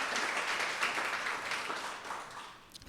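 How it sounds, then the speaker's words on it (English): Audience at a book panel applauds the authors: a brief burst of moderate, fairly soft clapping from a small crowd that tapers off over a few seconds, with no speech over it. "Round of applause for our authors, please."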